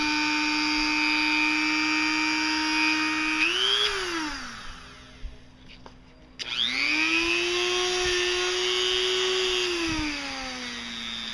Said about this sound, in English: throw on this little polishing wheel, kind of hit it with a little polish